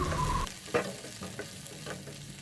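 Chana dal and onions frying in oil for a tomato chutney, a soft sizzle with a few spoon scrapes and stirring taps close by.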